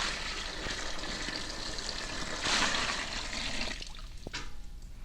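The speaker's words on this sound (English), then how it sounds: "And the final ingredient, a gallon of water from Niagara Falls." A gallon of water splashes and gushes into a witch's cauldron in a continuous pour that swells midway and then tapers off into a few drips.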